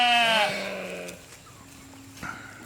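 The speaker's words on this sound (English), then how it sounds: "Nice, beautiful 4-horned Jacob sheep ewe." A four-horned Jacob sheep ewe gives one loud, close bleat at the start, followed by quieter farmyard sounds and a soft voice nearby.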